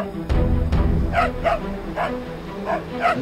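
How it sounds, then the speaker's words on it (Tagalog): A dog barks in a quick series of sharp yaps at moderate distance, spaced in short bursts over background room noise. "Ingay ng aso, tahimikin mo nga."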